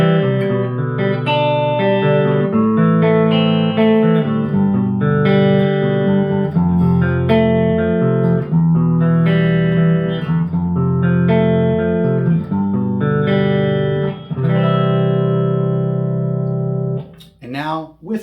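A clean electric guitar riff played with no compressor pedal: a repeated phrase of plucked notes and chords, close and fairly even in loudness, with no talk over it.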